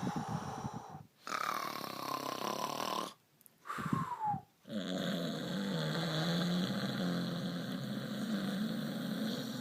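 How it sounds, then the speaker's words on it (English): Loud, continuous cartoon-style snoring from the animated animatronic rabbit Springtrap, rumbling steadily with two brief breaks before settling into a sustained drone. "Maybe that'll stop his snoring."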